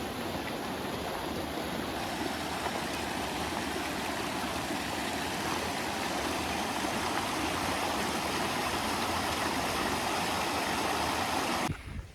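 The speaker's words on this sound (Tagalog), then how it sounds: "Kasi may sapa" Stream flowing across the Mt. Pinatubo trail, a steady rushing water sound heard up close and fairly loud, continuous for the whole stretch with no talking.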